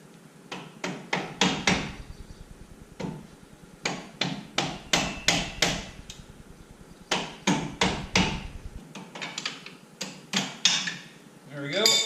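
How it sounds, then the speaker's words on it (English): Hammer blows knocking the brake caliper off a 2000 Chevy Silverado's front disc brakes, sharp metallic strikes in quick bursts of several hits with short pauses, close and loud, alone without talk. "Now this caliper should come off."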